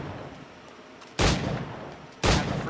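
Two loud, booming firearm shots from the Assassin's Creed IV Black Flag video game, about a second apart, each with a long rumbling tail over quiet background ambience.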